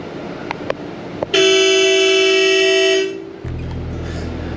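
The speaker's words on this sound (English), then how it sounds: "That's the honk. It honks by itself." A driverless bus sounds its horn by itself in one loud, sustained toot of about two seconds, heard from inside the vehicle after a few faint clicks, before the engine hum carries on.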